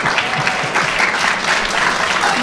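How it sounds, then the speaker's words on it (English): An audience breaks into steady, dense applause, loud and continuous throughout with no voices over it. "it's okay to clap"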